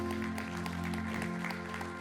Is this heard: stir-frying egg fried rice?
no